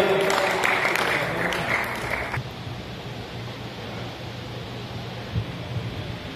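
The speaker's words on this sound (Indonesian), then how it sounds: "Tepuk tangan untuk Bapak Bupati Rembang Gemil." A crowd applauds for the regent at an informal coffee gathering with community and media: a dense burst of clapping for about two seconds, then it fades into a low, noisy room murmur.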